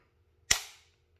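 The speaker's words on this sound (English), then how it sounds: "Next shot is 12 gram CO2, so it'll start going down a bit." A single sharp pop from an airsoft gun fired on a 12 gram CO2 cartridge, loud and close, with a short hissy tail fading out.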